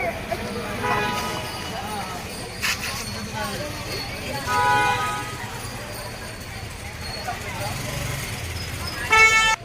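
Car horns toot repeatedly on a busy road amid steady traffic rumble, with several short honks spread through the clip and people talking nearby.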